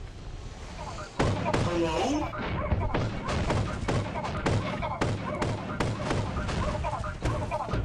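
Rapid gunfire rings out in Lethal Company as a weapon's magazine is emptied, a long string of sharp, evenly spaced loud shots under brief talk.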